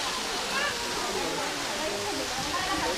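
Waterfall roaring steadily close by, a dense continuous hiss of falling water with faint voices of people nearby underneath.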